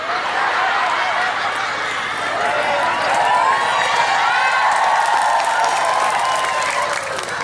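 An audience at a comedic religious talk breaks into sustained applause and cheering that swells slightly midway and then fades, with a voice faintly underneath.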